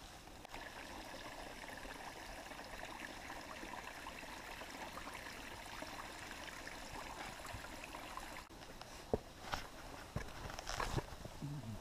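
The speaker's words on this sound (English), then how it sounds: "Trail's a brook, and the brook is a trail." A brook runs down a rocky mountain hiking trail on the way up Big Slide via Yard Mountain, a steady soft rushing trickle throughout, with a few knocks and footsteps near the end.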